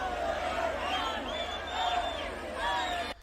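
Crowd at a weekend event, a dense murmur of many voices with scattered shouts and calls over a low steady rumble, near and continuous.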